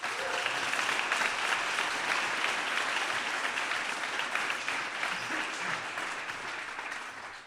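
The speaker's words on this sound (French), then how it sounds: "Une grosse main d'applaudissements." Warm, steady applause from a pitch party audience, a dense continuous patter of clapping that holds evenly and fades slightly at the end.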